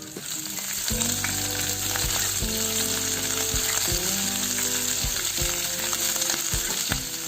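Sliced green chillies and garlic fry in a pan with a steady loud sizzle, punctuated by repeated clinks and scrapes of a utensil stirring them.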